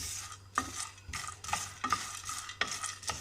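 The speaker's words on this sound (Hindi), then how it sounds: "आपने इलायची को भूनना है।" Whole cardamom pods dry-roasting in a pan, stirred with a utensil in a regular rhythm of scrapes and light rattles, with a faint dry crackle underneath, close and fairly quiet.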